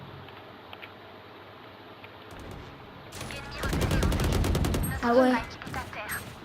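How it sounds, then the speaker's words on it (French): Machine gun fire in the shooter game Valorant, a fast burst of rattling shots that swells for about a second, followed by game effects and a brief spoken remark. "Mitrailleuse."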